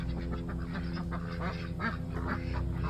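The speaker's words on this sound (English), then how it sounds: "a few naughty escapee ducks that are in totally the wrong place" A few escaped ducks quack repeatedly in a garden among flowers, the calls overlapping in an irregular chatter over a steady background hum.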